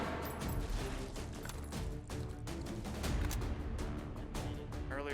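Rapid gunshots pop in the H3VR virtual reality game, a dense run of sharp repeated shots at close range with brief mechanical clicks among them.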